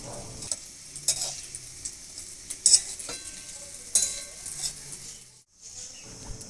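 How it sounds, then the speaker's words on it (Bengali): Egg balls frying in hot oil in a wok give a steady soft sizzle, broken by a few brief spatula scrapes and clinks, with a short silent gap near the end. "একে একে আমি সব কড়াইয়ে দিয়ে ভেজে নেব"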